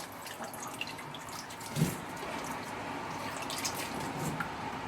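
Water runs and drips faintly while aronia berries are washed, a soft, steady trickle with one brief splash partway through.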